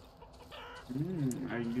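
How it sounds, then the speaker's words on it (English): Chickens in the horror video game Darkwood give a brief burst of clucking and warbling calls that rises toward the end, fairly close and clear, lasting under two seconds. "The chickens."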